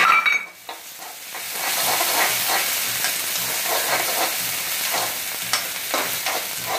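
Onions frying in a pan for palak paneer give a steady, close sizzle, with stirring scrapes running through it and no voices.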